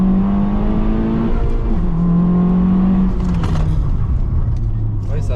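A Honda Civic Type R is driven hard and brakes sharply, its engine note stepping down through falling revs as it slows, heard up close with voices in the car.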